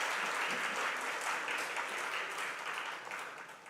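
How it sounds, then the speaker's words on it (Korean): A church congregation gives steady, dense applause of encouragement. The clapping is sustained and close, and it tapers slightly toward the end. "우리 격려의 박수 한번 하도록 하겠습니다."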